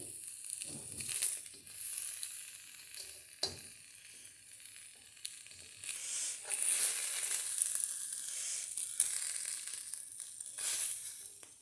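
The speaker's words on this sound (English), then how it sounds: "cooking it on a low heat so the meat doesn't burn" Meat cooks gently on low heat in a pan with red wine, giving a continuous soft sizzle and crackle that rises and falls, with occasional stirring scrapes and no talking.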